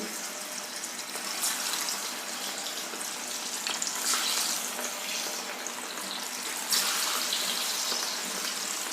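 Pieces of potato and besan batter fry in hot oil for a morning breakfast snack, giving a steady, close crackling sizzle that runs without a break, with no one talking.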